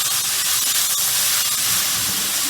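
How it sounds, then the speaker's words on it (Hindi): Tomatoes and ginger for khara masala keema fry in a pan, giving a loud, steady, close-up sizzling hiss without pause. "इसको टमाटरों के साथ अच्छा सा भून लेंगे"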